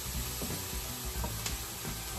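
Onion fries in a hot pan with a close, steady sizzle and hiss, broken by a few soft clicks of stirring.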